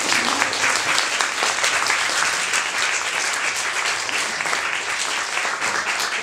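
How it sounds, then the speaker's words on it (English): Steady audience applause fills the room after a university discussion event, dense and even from start to end with no gaps. "Applause again, maybe."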